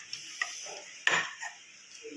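A wok is set down on a stove, with a sharp metallic clunk in the middle and a few lighter clinks before and after, close by in a quiet room.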